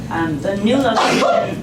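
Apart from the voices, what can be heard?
sneeze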